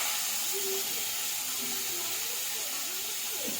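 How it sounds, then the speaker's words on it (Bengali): Potatoes fry in a pan with a loud, continuous, even sizzle and hiss that holds steady throughout the short stretch, with no voices over it. "তো আগে আলুটা ভেজে নিচ্ছি"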